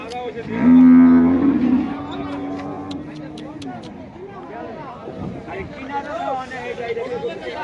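Water buffalo at a busy cattle market in Cumilla give a loud, long low moo close by, followed by steady crowd chatter and people talking in the background.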